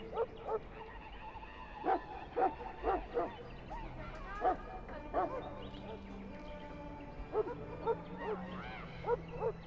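Mabari hound in a fantasy video game barking in short yipping bursts, several quick barks in clusters over a murmuring background with music-like tones.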